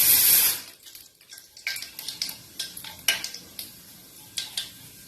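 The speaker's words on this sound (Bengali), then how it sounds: "তো দিয়ে দিলাম পাঁচফোড়ন" Panch phoron spices hit a hot pan with a loud hiss at the start, then a spoon scrapes and clinks against the pan in a steady stirring rhythm while the sizzle dies down.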